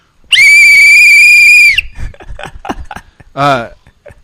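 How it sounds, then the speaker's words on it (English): A working whistle charm clipped onto Umbro Crocs gives one long, loud, shrill steady blast up close, followed by talking and a shorter voiced squeal. "One of the gibbets on my Umbro Crocs is a working whistle"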